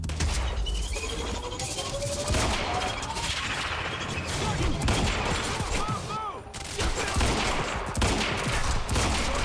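Sniper and other gunfire in the video game Quantum Break, sharp bursts and shots rattling through a busy mix of game effects and explosions, close and loud, with a player's voice occasionally over it.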